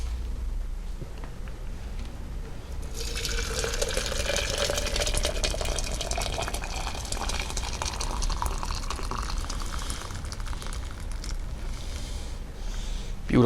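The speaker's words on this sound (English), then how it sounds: "now I'm just going to pour some boiling water into this to get the rest of that stuff out of there." Boiling water is poured into a home-brewing container for a Coopers dark ale, a steady splashing gush of filling liquid that starts a few seconds in and runs continuously, fairly close and moderate in level.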